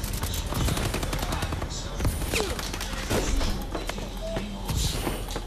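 Video game gunfire, rapid bursts of automatic shots cracking in quick succession with thuds and clanks between them, loud and continuous through the whole stretch.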